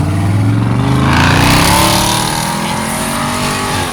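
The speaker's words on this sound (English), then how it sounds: "them damn loud cars" A loud car revs as it passes close by on a street, its engine note rising and then fading across about four seconds, with no talk over it.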